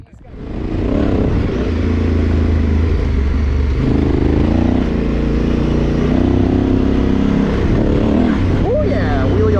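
Dual-sport motorcycle on an Idaho backcountry trail revs loudly and steadily at close range, the engine note rising and falling as it powers over a small bump, with wind buffeting and a voice speaking over it.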